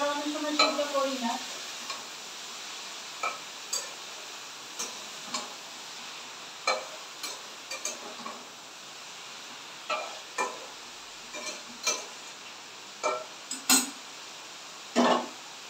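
Food stirred in a pan while cooking a katla fish head with cabbage: repeated sharp spoon scrapes and taps at an irregular rhythm over a soft continuous sizzle, close and clear.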